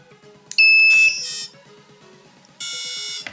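A home-built DIY quadcopter drone's electronics beep on power-up: two loud, sustained shrill electronic tones separated by a quieter stretch of rapid ticking pulses, close and alone.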